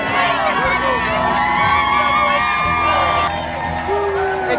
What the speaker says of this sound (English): People are applauding here to show them love and support.